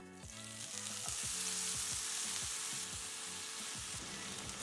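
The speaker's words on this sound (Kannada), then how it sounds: "ನಾನಿಲ್ಲಿ ನಾಲ್ಕು ಟೊಮೆಟೊ ತೊಗೊಂಡಿದ್ದೀನಿ ಇದೇ ಎಣ್ಣೆಯಲ್ಲಿ ಟೊಮೆಟೊ ಹುರ್ಕೊಳ್ಳೋಣ" Four tomatoes frying in oil in a pan for a chilli tomato chutney, a steady close sizzle with repeated clacking stirs and pan taps heard alone.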